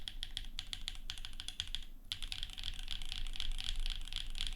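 Fast, bright clacking keystrokes on a rebuilt Think6.5 mechanical keyboard, typed in quick runs with a short pause midway. The sound is close and fairly quiet, with no talking.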